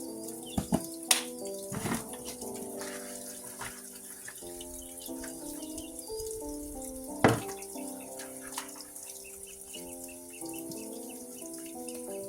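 A garden hose or tap runs steadily while watering a pomegranate tree, a constant soft splashing flow with a few sharper knocks and faint birdsong in the background.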